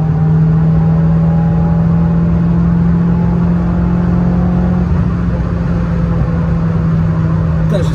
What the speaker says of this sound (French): J'ouvre les gaz.